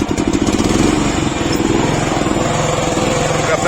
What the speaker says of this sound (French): On va ici tourner notre clé et le tracteur va démarrer.